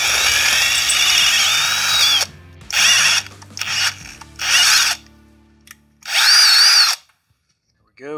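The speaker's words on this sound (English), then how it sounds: "Now I'll put the clamp in here, bore this out just a little bit so we can thread it." A power drill bores out a metal clamp so it can be threaded, giving several loud, close bursts of high whining drilling, each a second or so long and separated by short pauses, with a brief clatter near the end.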